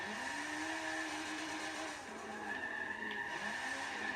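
Sustained tire squeal from a Lancia Stratos sliding into oversteer in Forza Motorsport 7, the screech wavering in pitch over a droning engine note, with a brief dip before the skid resumes.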